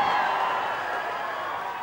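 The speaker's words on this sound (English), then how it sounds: "Crowds gathered in the main streets of Exeter throughout the morning for a glimpse of the Queen." Crowd in the main streets of Exeter cheering and calling out during the Queen's Diamond Jubilee visit, a steady, broad roar of voices that fades slightly over a couple of seconds.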